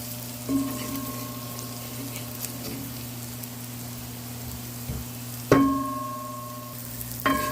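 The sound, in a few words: stirring curry chicken with string beans in a pot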